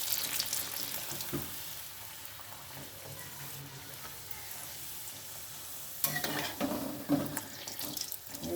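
Pea-filled kachori fry in hot oil one after another, a continuous soft bubbling hiss that swells louder with crackles as another piece goes into the pan. It stays fairly quiet overall, and no one talks.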